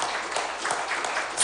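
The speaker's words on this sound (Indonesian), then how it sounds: "mohon sekali lagi tepuk tangan yang paling meriah" An audience claps at the 2020 Purbalingga regent candidates' debate, held at the KPU office. The applause is steady and dense and fills the short moment, with no voices over it.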